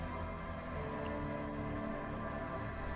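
Steady heavy rain pours in the video game Disco Elysium, a constant, even hiss of drops that neither swells nor fades, fairly soft and with no voices over it.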